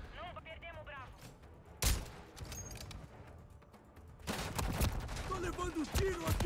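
Gunfire in the video game Call of Duty: Modern Warfare III, with sharp shots and bursts of automatic fire, some near and loud, over busy game ambience and faint voices.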